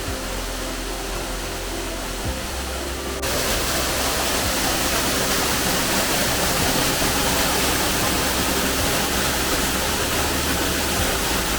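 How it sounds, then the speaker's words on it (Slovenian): A partly hidden waterfall in the Tolminka valley roars as a constant broadband rush, loud and near, swelling slightly after the first few seconds and continuing alone without speech. "Malo skrit slap."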